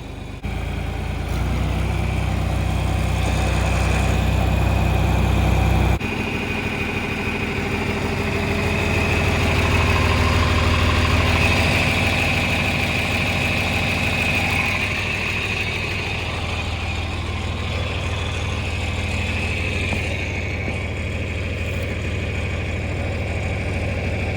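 A 4020 tractor with a power shift transmission runs steadily nearby, its low, heavy diesel idle droning continuously with slight swells in loudness and no voices.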